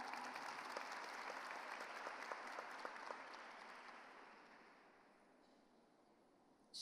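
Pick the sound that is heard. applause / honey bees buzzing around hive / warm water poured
applause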